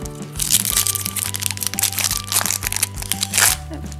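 A Pokémon Black & White Plasma Freeze booster pack made of thin, flimsy foil is torn and crumpled open, giving close, busy crackling and crinkling in irregular bursts over a steady musical background.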